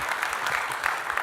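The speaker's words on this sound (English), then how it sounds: "Please give our panel a big round of applause." An audience at a beef industry event applauds a student panel with a steady, dense, moderately loud patter of many hands clapping at once.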